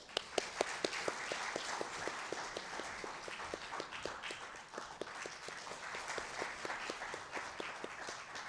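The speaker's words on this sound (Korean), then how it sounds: "큰 박수로 환영해 주시기 바랍니다." Steady applause from a conference audience greets a speaker at an electrical engineering society's summer academic meeting, with dense continuous clapping and a few sharper individual claps standing out, no voices heard.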